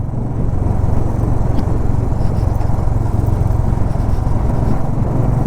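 A motorcycle engine drones steadily and loudly on a mountain road in Spiti Valley, with a constant low rumble and wind buffeting, and no talk over it.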